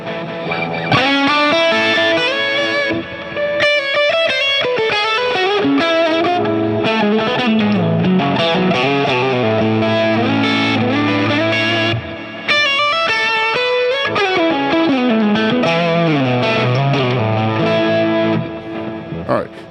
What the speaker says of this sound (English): This is the reverb with the delay.